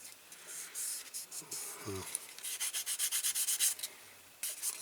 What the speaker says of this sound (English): Get it off using this fine wet and dry I've got.